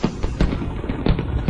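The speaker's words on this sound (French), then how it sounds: "Ces feux d'artifice sont pour King." Fireworks bursting in quick succession, a string of loud sharp cracks and pops roughly every few tenths of a second, close and crackling, with no voices.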